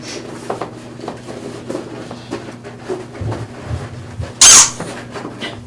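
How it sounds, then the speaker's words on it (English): A squeaky dog toy gives one loud, short squeak near the end, after a stretch of soft rustling and shuffling. "There's a squeaky toy."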